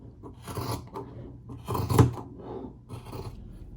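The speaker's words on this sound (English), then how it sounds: "Then you just want to cut a strip that's about 1/2 inch to 3/4 of an inch thick." Scissors snipping through a strip of knit T-shirt fabric, three or four short close crunching cuts with brief pauses between them.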